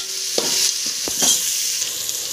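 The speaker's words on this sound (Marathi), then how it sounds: "आता हे सगळे मसाले आपल्याला छान परतून घ्यायचे" Spice masala with coriander-cumin powder sizzles steadily in a pan as a spoon stirs it, with a few soft scraping strokes over the continuous frying hiss, close up.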